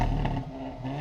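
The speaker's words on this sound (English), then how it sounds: "The sweet sound of that exhaust is something you'll hear every Saturday at Town Center" A car's exhaust revs at a Saturday Cars and Coffee car show at Town Center, a brief steady roar with a slight rise and fall, fairly loud and close.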